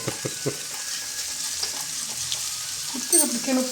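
Pomfret fish fries in a pan with a steady hissing sizzle and a few clattering knocks early on, close by, followed at the end by a brief burst of louder spattering and movement.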